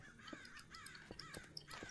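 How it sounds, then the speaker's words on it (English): Crows caw close by outdoors, several harsh calls in quick irregular succession, fairly loud and clear with no talking. "Yes, I hear you, crows. You're loud and obnoxious."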